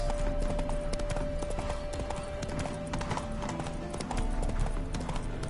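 Horse hooves clip-clop steadily on the ground in The Witcher 3, a brisk close rhythm carrying on throughout over a faint background tone.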